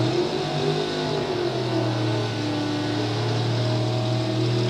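Drag racing cars, a Corvette among them, roar through a run at a live event, a loud sustained engine drone with steady low rumble and a rising pitch, no voices over it.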